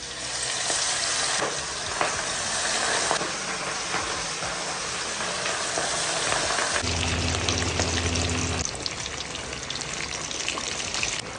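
Katla fish sizzles and crackles steadily in hot oil, a dense continuous frying hiss close to the pan with occasional stirring and a low bubbling shift partway through.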